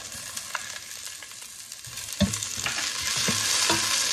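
Three cloves of garlic sautéing with softened onions in a pan, a soft sizzle that swells louder with a few stirring scrapes partway through.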